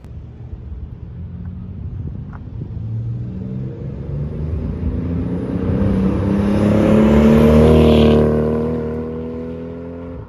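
A Mk4 Toyota Supra with a new downpipe grows from a distant rumble to a roaring pass close by, its loud exhaust peaking and then fading as it moves away.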